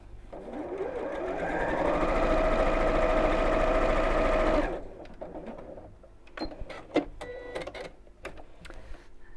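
Steady, loud whir of a sewing machine stitching fabric for a child's backpack, running for several seconds before stopping, followed by scattered clicks and handling noises.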